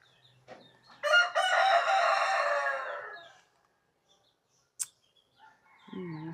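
A rooster crows one long, loud call among farm chickens, followed by quieter clucks and a brief sharp chirp, with a low hum and faint background sounds between.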